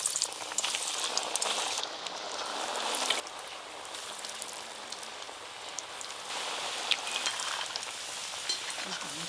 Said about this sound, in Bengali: তেল এদিকে গরম হয়ে গেছে, এবার ভেজে নেব। এবার এই ভেজিটেবিল চপগুলো ভেজে নেব।